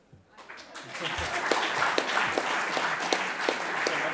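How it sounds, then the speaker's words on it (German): Audience at a political event applauding, a dense, steady wash of clapping from many hands that swells in quickly and holds at a moderate level throughout. "der kriegt auch noch einen Applaus"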